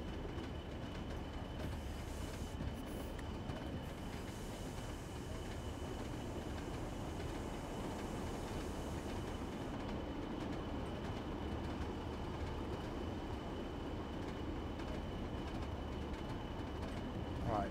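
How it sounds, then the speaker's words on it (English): A diesel multiple unit train running on the Northern Trans Pennine route in Train Sim World 3, a steady low cab rumble and rolling drone that holds constant throughout, with voices faintly present at times. "So then we're going to jump in a DMU and do the return trip."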